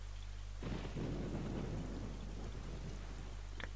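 Rain and thunder in The Legend of Zelda: The Wind Waker HD, with a steady low drone before a loud rumble of thunder breaks in and rolls on over constant rainfall.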